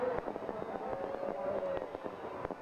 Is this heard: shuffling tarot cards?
no